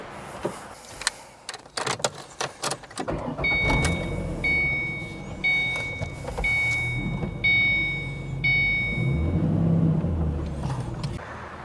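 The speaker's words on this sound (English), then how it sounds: "Now we'll just drive it up onto the ramps." A 2005-2014 Ford Mustang is driven up onto ramps: a few sharp clicks and knocks, then a low engine rumble rising and easing in surges, with a repeated high chime ringing over it, close and unspoken.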